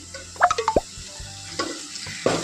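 Onion and tomato masala with chilli powder and turmeric frying in plenty of oil, a faint sizzle broken by a few sharp clinks and scrapes of stirring, close and without talk.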